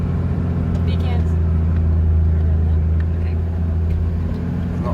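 A car drives over a grassy track on a trip to Stockton, a steady low engine rumble and road noise holding at even loudness throughout, with people talking over it.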